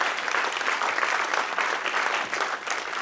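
An audience at a radiation oncology talk claps in a sustained round of applause, dense and fairly loud, with no voices standing out above the clapping.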